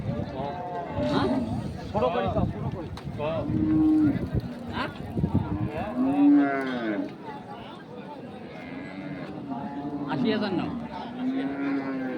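At a cattle market, several cows give drawn-out moos spread across the stretch, some overlapping, amid steady bargaining chatter from nearby men.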